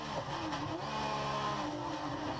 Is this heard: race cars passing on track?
yes